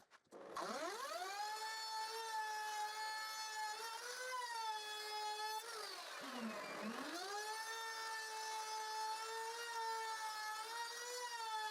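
A power router cuts a tongue and groove joint in wooden planks, a high steady whine that spins up, holds, dips briefly under load midway, then recovers and keeps running alone.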